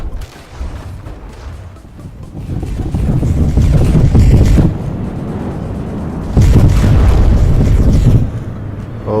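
The Derpstroyer robot explodes in a video game battle, a loud, rumbling burst of low roaring blast noise that swells, eases and flares up again over several seconds, with no voices.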